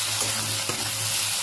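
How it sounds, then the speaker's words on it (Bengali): Chopped onion, chili and tomato fry in hot oil in a pan for a Bengali boiled-egg curry, giving a steady, close sizzle throughout with a brief stirring scrape partway. "ভালো করে পেঁয়াজ লঙ্কা টমেটোটা একটু ভেজে নেব"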